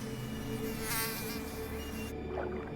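Swarming mosquitoes and black flies whine and buzz over tundra ponds on the coastal plains of Hudson Bay, a steady close insect drone that swells briefly and then thins out near the end.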